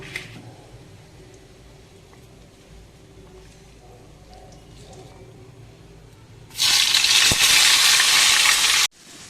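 After several quiet seconds, onions drop into hot oil already tempered with bay leaf, dried chili and cumin, setting off a sudden loud, close sizzle that roars for about two seconds and then cuts off.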